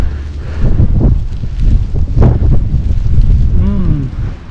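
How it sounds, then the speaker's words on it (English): Wind gusts through a New York snowstorm, buffeting loudly with low rumbling bursts across the stretch, and a voice briefly sounds near the end. "Only thing is windy and it's blowing all the snow on my face."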